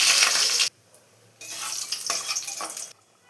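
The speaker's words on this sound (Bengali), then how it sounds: "কটা বড়ি ভেজে নেব।" Bori, small lentil dumplings, frying in hot oil in a wok, with two loud bursts of crackling sizzle separated by a short quiet gap.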